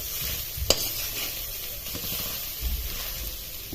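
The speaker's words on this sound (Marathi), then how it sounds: "तूप तळलं का लगेच हा पीस टाकून द्यायचा खोबऱ्याचा आणि हा पूर्ण ड्राय करून घ्यायचा" Grated coconut frying in ghee, a continuous close hiss and sizzle with a sharp clink near the start and low scraping stirs through the pan, no talking.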